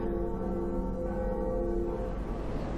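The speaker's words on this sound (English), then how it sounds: "It seems I'm ringing another church bell." Church bell rung in the Dark Souls video game, a deep, resonant toll whose ringing hum hangs and slowly fades, alone without talk.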